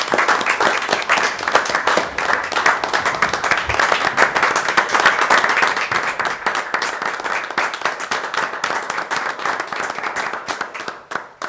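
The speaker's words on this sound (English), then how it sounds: "we just want to applaud for your service" Applause at a school board meeting, a room of people clapping steadily for several seconds, close and loud at first, then thinning and tapering toward the end.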